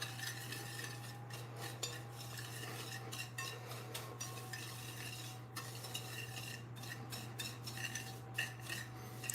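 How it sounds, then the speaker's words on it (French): Melted butter is stirred into banana bread batter with a utensil scraping around a bowl, producing rhythmic soft scraping and occasional clinks, close and fairly quiet over a steady background hum. "Je vais mettre le beurre fondu et je vais mélanger le tout."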